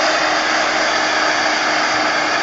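A hand-held dryer blows steadily to dry paint on a mixed-media craft project, a loud, even whooshing hum that stays close and constant for the whole stretch, with no talking over it.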